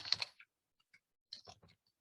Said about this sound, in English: Sorry, I typed noisily.